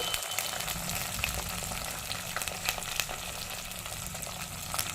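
Eggplant pieces sizzle and fry in a hot pan while being stirred, a steady crackling hiss with scattered pops and scraping, close and without voices.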